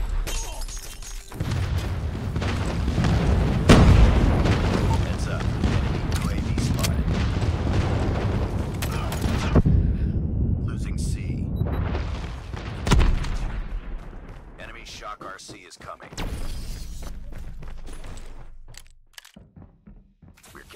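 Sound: airstrike explosions in Call of Duty video game

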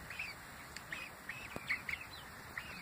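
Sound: ducks quacking

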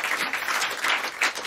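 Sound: audience applause for the guitarist

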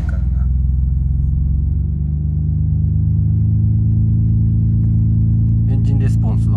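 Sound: Nissan R32 Skyline GT-R engine revving

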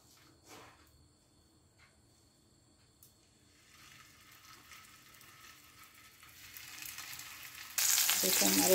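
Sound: gola kababs frying in a little oil

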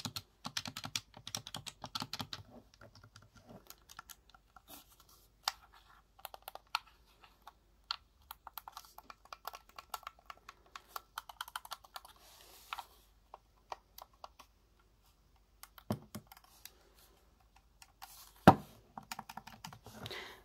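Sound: Xbox One controller buttons clicking

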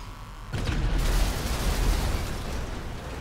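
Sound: tank cannon shot firing in GTA 5 video game

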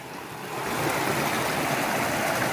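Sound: flowing water of a stream near a waterfall

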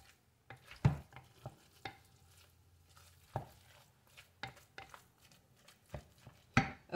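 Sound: stirring sloppy joe mixture in a crock pot

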